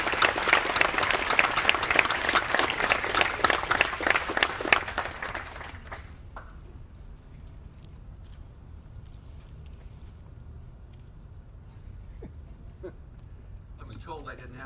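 A military retirement ceremony audience gives sustained, dense applause for roughly five seconds as the host is welcomed outdoors, then the clapping dies away into quiet ambient murmur.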